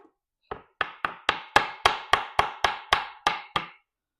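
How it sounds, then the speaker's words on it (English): Light hammer taps on a wooden build: about eleven sharp, evenly spaced knocks ring out close and clear over roughly three seconds in an otherwise quiet space. "I'm going to just grab a hammer and give a couple light taps on this side."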